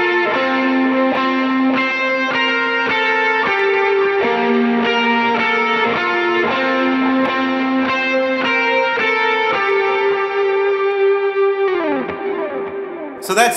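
Electric lead guitar with extra drive and chorus, echo-like effects plays a worship-song melody in repeated ringing, sustained notes, then ends on a bending, falling gesture.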